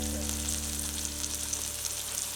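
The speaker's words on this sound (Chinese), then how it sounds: "肉饼放上去，就让它这么煎着。" A frozen beef burger patty fries in an oiled pan, giving a steady, dense sizzle with constant crackle and a low hum underneath, close and continuous without speech.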